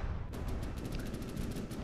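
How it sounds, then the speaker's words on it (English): Warship anti-aircraft cannons firing at planes in a naval combat video game, a rapid string of sharp repeated bursts that runs steadily for about two seconds with no voices. "three upper cannons, are still shooting, still trying to get some planes down"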